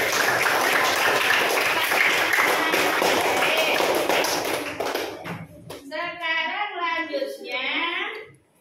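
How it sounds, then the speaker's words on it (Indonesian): A classroom full of people claps together for about five seconds, then the applause fades and children's voices start talking in Indonesian. "Oke, tepuk tangan sekali lagi."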